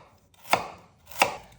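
Two crisp knife strokes through peeled ginger on a cutting board, evenly spaced and close, with quiet pauses between them.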